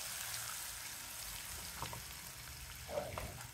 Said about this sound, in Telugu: తిరగమాత వేసేద్దాం పచ్చట్లోకి